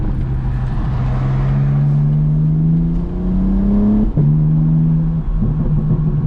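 Loud, close exhaust note of a BMW G80 M3 with catless downpipes, a steady droning pull that rises through a gear, then a sharp break near the shift before the drone resumes on the next gear.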